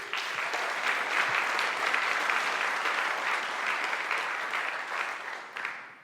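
Sustained audience applause in a conference hall at a DevOpsDays event, dense and steady for several seconds, then thinning and fading toward the end.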